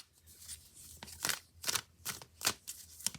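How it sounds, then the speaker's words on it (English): Playing cards being shuffled up close, a series of quick riffling bursts with short pauses between them, fairly quiet and with no voices. "Let's give it one more little shuffle here."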